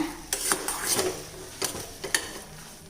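Cooked rice and milk being mashed in a pot over a low flame, with several distinct scraping and clinking strikes of a utensil against the pot over faint background noise, no talking.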